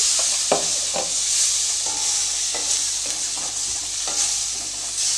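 Steady sizzling of ground masala frying in a pan over a medium gas flame, with a spoon scraping and stirring every second or so throughout.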